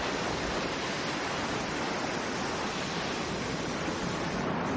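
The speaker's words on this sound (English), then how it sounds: "The wind's dropping and the waves are subsiding." Broadband rushing surf of North Sea waves, steady and continuous with wind noise mixed in, no voices.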